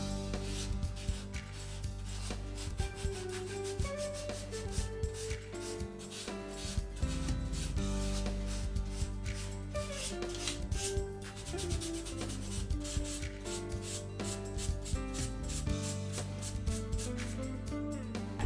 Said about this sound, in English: Use a handheld piece of 320 grit sandpaper to feather the edges of the silk span at the tips.